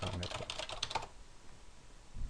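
Typing on a computer keyboard while filling in an electronic form: a quick, quiet burst of key clicks for about a second, then near silence with faint room noise.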